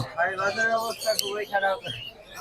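Several birds chirp and tweet close by in quick, overlapping bursts, bright and busy at a bird market in Mirpur 1.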